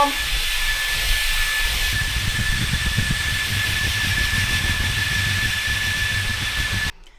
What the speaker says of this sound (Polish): Dobra, mam już swój magiczny odkurzacz.